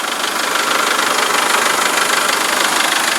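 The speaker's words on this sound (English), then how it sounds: "Here's the engine." A motorhome van's engine idles steadily, a loud, close, continuous mechanical rumble with an even texture throughout and no voices.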